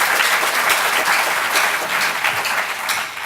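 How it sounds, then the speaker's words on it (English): A summit audience breaks into dense, loud applause, a sustained wash of many hands clapping together for the full stretch, slowly easing off toward the end. "Please give them a good round of applause."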